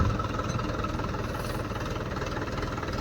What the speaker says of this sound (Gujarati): ટ્રેક્ટર જો આપણે હાંકવાનું ચાલુ કરી દીધું